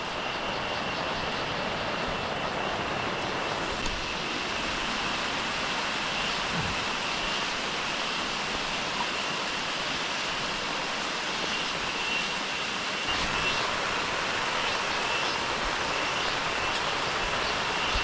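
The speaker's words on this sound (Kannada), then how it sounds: "ಮಳೆ ನೋಡಿದ್ರ ಒಳ್ಳೆ ಶಕ್ತಿ ಜಾಸ್ತಿ ಆಗ್ಬಿಟ್ಟಿದೆ ಮಳೆಗೆ" Heavy rain pours on a tent at a forest campsite, a dense, steady, unbroken roar of rainfall with no pauses, loud and close throughout.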